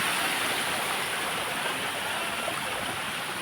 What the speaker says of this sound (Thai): เรียกว่าน้ำตกคำบากนะครับพี่